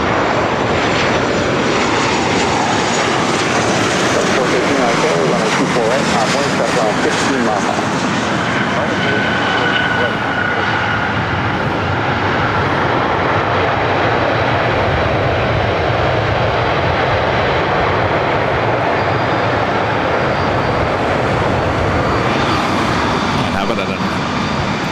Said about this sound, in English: This next arrival is Southwest Airlines 189 coming in from Sacramento on a 737-800.